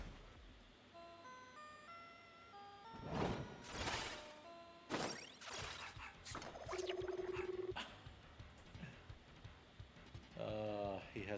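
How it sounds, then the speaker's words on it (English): A robotic dog enemy in the Scott Pilgrim EX video game lets out several loud, harsh barks and growls, set against game music and other effects. "He has a dog."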